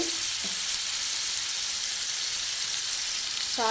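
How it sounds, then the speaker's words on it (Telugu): Mutton pieces with salt frying in a pan, a dense, steady hiss of sizzling oil filling the whole stretch, close and even, with a faint clink at the start and end and no speech. "మటన్ కూడా కలిపేసుకుందాం బాగా"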